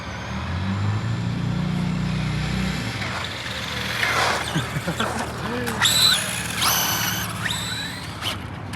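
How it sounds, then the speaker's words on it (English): Traxxas RC cars, two-wheel drive against four-wheel drive, drag racing: a rising electric motor whine with high whirring sweeps as the cars launch and pass, over steady outdoor background noise. "Drag racing, ladies and gentlemen. 2-wheel drive versus 4-wheel drive."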